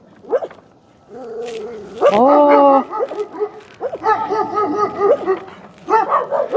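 Several dogs barking and yipping in short bursts, with a whimper-like whine among the barks, fairly close, continuing in irregular clusters with no talk heard.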